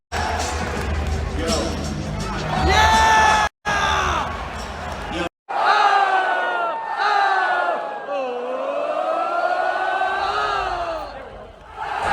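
An arena crowd at an AEW wrestling show in Boston sings along loudly to a song as CM Punk makes his entrance. Many voices chant in sustained melodic swells, with brief cuts in the recording.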